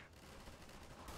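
Dense, rapid gunfire from the video game Garry's Mod rattles on continuously in a loud, busy burst with no pauses, and no voices are heard over it.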